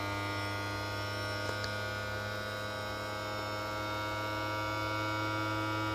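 A Creality Ender 3 V3 Plus 3D printer hums steadily after startup, a constant electrical drone with a faint higher whine, unchanging and alone, with no voices.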